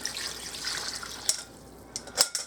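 Water pours into a crock pot for bean soup, a soft hissing splash that stops partway through, followed by a few faint drips and clinks.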